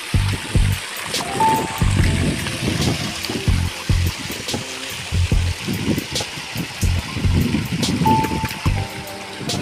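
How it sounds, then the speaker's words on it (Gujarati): A farm motor pump sends water into a sorghum field, with a low rhythmic chugging under a steady trickling flow of water, fairly close and continuous throughout. "ખાડા મોટર ચાલુ કરી દીધી જવારની બીજું પાણી ચાલુ કરી દીધું"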